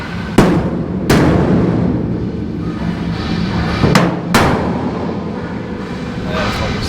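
A hammer strikes a stuck part on a steel shipping container. About four loud, sharp metallic blows land at irregular intervals over a steady rumbling background.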